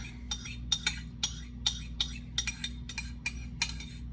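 A spoon scrapes the last bits of chocolate chip cookie dough from a mixing bowl in a string of short, bright clinks and scrapes, close and fairly quiet over a low steady hum.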